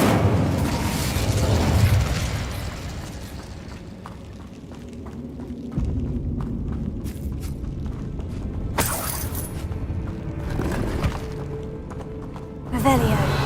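An Incendio fire spell cast in Hogwarts Legacy roars with booming, crackling blasts and shattering bursts, loud at first, then rumbling on with sharp pops and a fresh burst near the end, alongside a voice talking.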